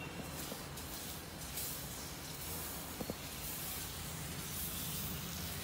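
Instant attu batter sizzles on a hot pan, a steady close hiss that continues evenly throughout, with a couple of faint clicks partway through.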